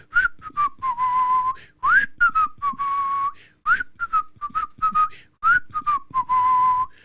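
A person whistles a bright, wavering tune alone, a string of sustained notes broken by short chirpy slides, near and fairly loud with brief pauses between phrases.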